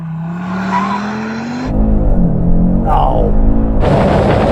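An Audi RS3 and a Tesla Model 3 Performance launching in a drag race: a loud engine roars through rising gears with distinct shift breaks, plus tire noise, all close and without talk.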